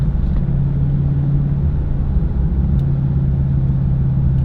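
A 2022 widebody Dodge Charger Hellcat rumbles as the driver lifts off the gas, a loud, steady low engine drone heard from inside the car without pause.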